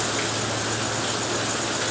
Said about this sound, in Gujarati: પાણી પણ જોરદાર આવી રહ્યું છે, જોઈ લ્યો. અને વરસાદ પણ શરૂ થઈ ગયો છે.